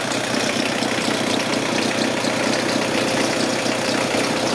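Peugeot 306 1.9 litre engine from 1999 idling as it warms up, a loud, close, steady mechanical rumble with an even ticking pulse and no voices.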